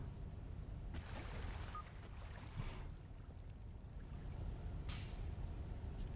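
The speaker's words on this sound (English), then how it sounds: "We're going a little fast here. I probably should have killed the engine." A lobster fishing boat runs fast at sea, its engine a steady low rumble blended with continuous water and hull rush, with brief splashy bursts of spray.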